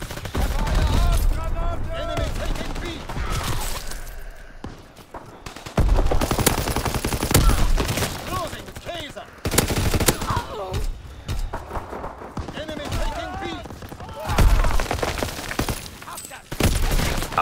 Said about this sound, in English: I'm already firing.